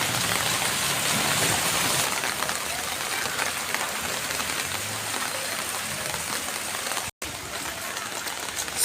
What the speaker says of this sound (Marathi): त्या ठिकाणी आपण पाहू शकता जोरदार अशी पावसाची सर आलेली आहे.